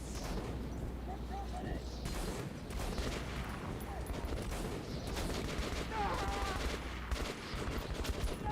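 Steady gunfire in the shooter Metro 2033 Redux, a rolling clatter of automatic shots with low rumbling booms throughout, heard beneath people talking.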